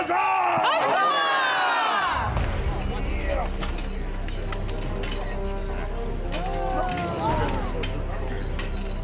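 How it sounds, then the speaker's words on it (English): Comic-con crowd answering an announcer by shouting in unison, a loud collective roar of many voices that swells and repeats over a constant low hum, with individual shouts and whoops rising above it. "my loving crowd, let me hear you in one voice. Huzzah! Huzzah!"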